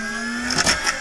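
A servo mechanism sound effect from a soundboard app: a brief mechanical whir with a steady tone that shifts into a short burst of buzzy motor pulses.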